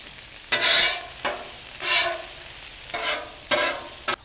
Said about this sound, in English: Now we're going to put the diced onion right onto the griddle surface.